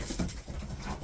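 Puppies pant close by, with quick breathy huffs and a faint whimper, quiet and short against a soft indoor background.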